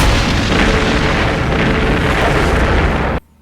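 Film bombardment in Shin Godzilla: a dense, continuous roar of heavy explosions and artillery blasts, loud and sustained for about three seconds before cutting abruptly to near silence.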